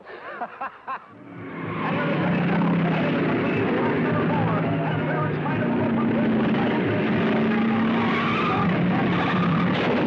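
Race cars in a 1949 film heat race roar past in a loud, sustained engine drone with whining pitch changes, after a brief voice at the start.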